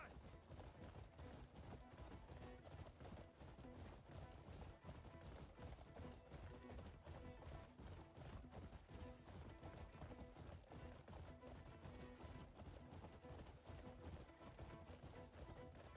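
A horse gallops in a video game race, with steady, rapid hoofbeats pounding continuously at a moderate level and no talk over them.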